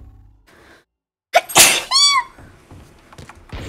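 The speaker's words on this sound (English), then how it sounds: "I feel like I have to sneeze." A woman sneezes once, close and sharp, a sudden breathy burst after a short quiet lead-in, followed by a squeaky vocal sound and some soft background noise.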